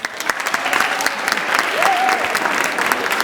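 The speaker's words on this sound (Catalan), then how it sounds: "també us mereixeu un aplaudiment vosaltres" Applause from an audience at a school presentation, a dense wash of many hands clapping close and fairly loud, swelling slightly and lasting throughout with a faint voice mixed in.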